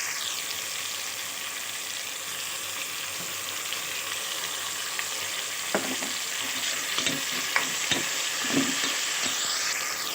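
Mutton pieces fry in a little hot oil for a Telugu brinjal mutton curry, giving a steady, close sizzling hiss, with stirring scrapes and clatter in the second half.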